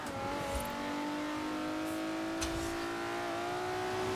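A drift car's engine in the racing game Forza Horizon 4 holds a steady, sustained tone that climbs gradually in pitch, with a couple of brief transient bursts over the top.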